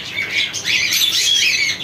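A caged cockatiel squawks loudly and close by, giving a continuous run of harsh, rasping calls with a brief dip partway through. No voices are heard.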